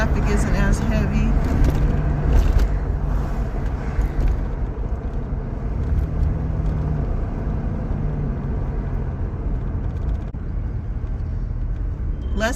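Steady road traffic on Los Angeles County streets, a continuous low rumble of passing cars with a bus-like drone, fairly loud and close, with people talking over it throughout.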